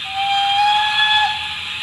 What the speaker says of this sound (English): F4 is a short whistle.